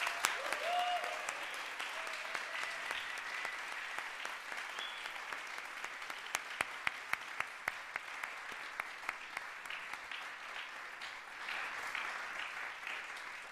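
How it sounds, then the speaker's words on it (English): Sustained applause from an audience in a music school concert hall, fairly distant and even, with a few louder individual claps near the middle before the clapping carries on. "Let's give them a round of applause."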